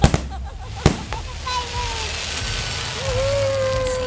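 Backyard fireworks pop with a few sharp bangs, followed by whistling rockets that rise and trail off over a crackling hiss, with voices faintly present.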